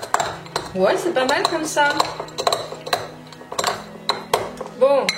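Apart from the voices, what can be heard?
crushing peanuts with a spoon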